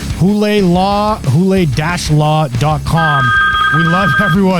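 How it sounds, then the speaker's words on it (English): A mobile phone ringtone sounds as a steady electronic tone partway through, playing beneath continuous close talking. "That was my phone, guys."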